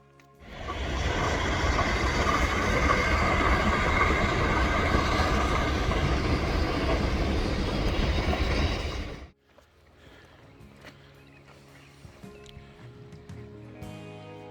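The historic 1880 Train rumbles and clatters past loudly for several seconds in South Dakota, then cuts off, leaving faint outdoor ambience.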